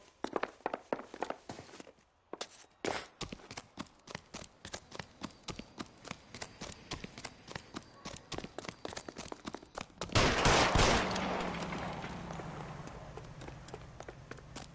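In the crime video game L.A. Noire, a fast run of hard footsteps clatters close by, then a single loud gunshot cracks out and fades into a low, ringing rumble.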